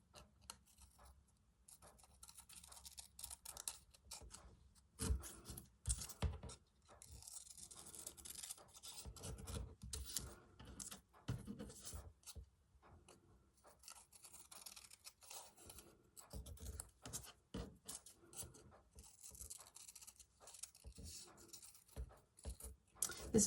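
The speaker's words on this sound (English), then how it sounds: "So I'm going to cut these in half." Scissors cut repeatedly through fabric leaves for a slow-stitch embroidery fabric journal, giving soft, close, scratchy snips and rubbing with small pauses and handling noises between cuts.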